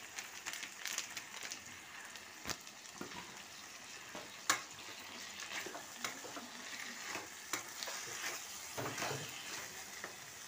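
Chicken masala being stirred in a pan with kasuri methi and salt, a soft continuous fry with frequent scraping and clicking strokes of the spoon, fairly quiet and close, no speech.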